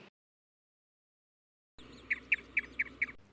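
A cartoon crow caws five times in a quick, evenly spaced run, fairly faint and close, after a stretch of silence.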